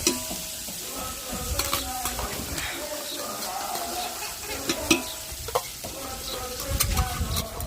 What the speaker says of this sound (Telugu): మొత్తం వేసి అల్లం వెల్లుల్లి పేస్ట్ కూడా వేసేసుకున్నాం మొత్తానికి వేసుకొని బాగా ఫ్రై చేయాలి